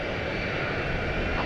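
Airliner engines at DFW Airport in the evening, a steady, loud, broadband roar with no breaks and no talk.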